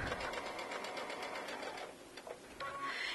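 A sewing machine stitches in quick, steady mechanical pulses, close by and fairly quiet, with its rhythm slowing and breaking into a few separate clicks and a brief whir near the end.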